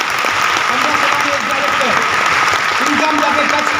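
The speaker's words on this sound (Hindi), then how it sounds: "एक बार जोरदार तालियां होना चाहिए।" Loud, dense audience applause fills a hall during a Smart Value business success talk, steady and continuous throughout with crowd noise and a voice briefly audible beneath it.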